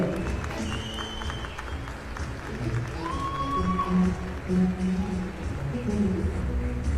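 Steady applause from an audience at an award ceremony as a trophy is presented. The clapping is dense and sustained, mixed with crowd noise and a voice speaking over it.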